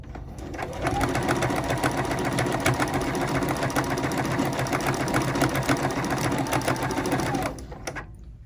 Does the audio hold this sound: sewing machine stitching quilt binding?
yes